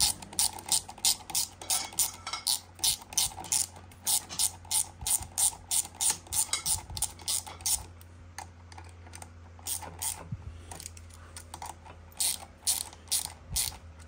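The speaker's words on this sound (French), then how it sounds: "tu dévisses tout et je te reprends une fois que c'est démonté" A ratchet wrench clicks rapidly in repeated bursts while screws are undone on a 125 RM motorcycle engine, close and steady, with a few short pauses between runs.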